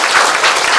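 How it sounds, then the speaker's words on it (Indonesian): An audience at a lively Javanese Islamic sermon gathering gives a brief burst of applause, loud and close, a thick, even roar of clapping lasting under a second. "Saya minta tepuk tangan dulu dong"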